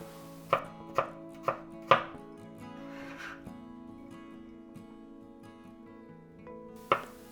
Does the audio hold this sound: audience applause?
no